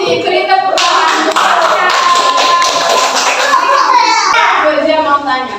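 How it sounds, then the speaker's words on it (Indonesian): Children clap their hands in a classroom group activity, a dense, steady patter of many small hands held at close range, with kids' voices chattering through it the whole time. "beri tepuk tangan"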